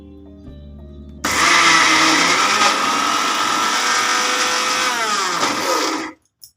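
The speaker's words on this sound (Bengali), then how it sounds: "আমি মিক্সিতেই বেটে নিচ্ছি" After a quiet opening, a mixer grinder whirs loudly for several seconds, grinding soaked masoor lentils with a steady high motor roar that dips slightly in pitch toward the end, then abruptly stops.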